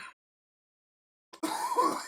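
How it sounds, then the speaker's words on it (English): A sharp cough bursts out after a long silence, followed by rough, raspy throat noise; close and fairly loud. "you need to get that last damn cough out"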